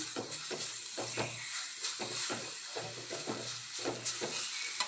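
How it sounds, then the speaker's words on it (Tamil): Grated carrot being stirred and roasted in a pan, a soft hiss under repeated scraping strokes of a spatula at a steady rhythm, close and moderately quiet. "இதை நல்லா மிக்ஸ் பண்ணி வறுத்து எடுத்துக்கலாம்"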